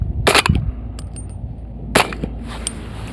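A suppressed PSA JAKL in 300 Blackout fires subsonic rounds, giving two sharp, fairly loud reports about a second and a half apart, each followed by a brief metallic clatter.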